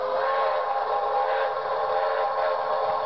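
A steady train whistle tone from a model train setup holds evenly for about three seconds, a continuous mid-pitched note with no talking over it.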